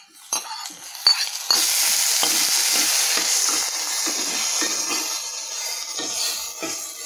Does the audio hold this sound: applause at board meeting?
no